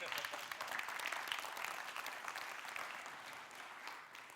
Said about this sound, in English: We're going to clap for that one? Let's go. Clap for that one.